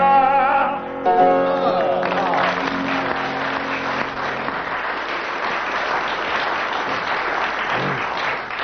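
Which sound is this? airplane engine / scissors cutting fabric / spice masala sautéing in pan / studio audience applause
studio audience applause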